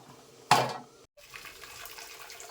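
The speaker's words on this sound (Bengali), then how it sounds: "এখন ভাতের মাড় গেলে দেবো" Starch water being poured off a pot of boiled rice, a short splashing gush of liquid that fades quickly, followed by a brief silence and then a soft background hiss.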